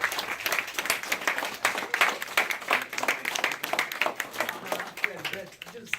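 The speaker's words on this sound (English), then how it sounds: "we just want you guys to give him a big round of applause" A church audience gives a loud, sustained round of applause, with dense clapping filling the room for several seconds and voices and cheers mixed in.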